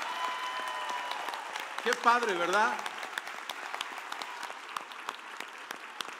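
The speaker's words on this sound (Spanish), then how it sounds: "Que le des un aplauso a todos estos jóvenes" A church congregation applauds young choir singers and child musicians at a Christmas special, a steady wash of clapping that swells briefly, with a voice speaking over it.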